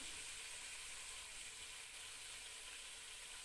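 Boneless chicken cooks on high flame in a handi, producing a steady, even sizzle at low volume with no break.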